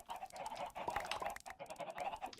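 Chickens cluck in a Minecraft multiplayer farm, a busy stream of short overlapping clucks and squawks at moderate, steady loudness with no talk over them.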